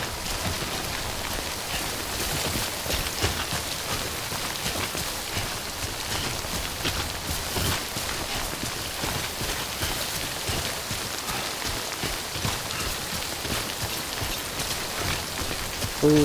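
Steady rain pouring across a Death Stranding 2 game scene, a dense, even hiss of falling water that runs unbroken throughout with no voices over it.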